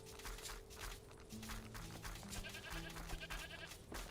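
Goats bleat in a short burst of wavering cries in the video game Mr. Prepper, over a steady background hum and faint footsteps, with a few overlapping calls.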